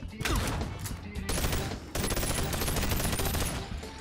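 Rapid, continuous bursts of automatic gunfire in the BONELAB video game, loud and dense with brief pauses between volleys, with a voice talking faintly beneath.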